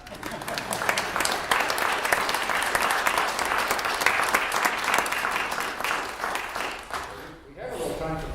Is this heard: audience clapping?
yes